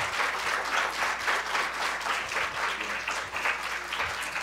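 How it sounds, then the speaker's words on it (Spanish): Audience in a university faculty hall giving a strong farewell applause for Doctor Andrés García, a loud, dense, continuous clapping of many hands that holds steady throughout. "les pido que lo despidamos con un fuerte aplauso"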